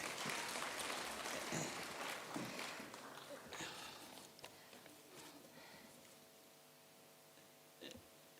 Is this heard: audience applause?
yes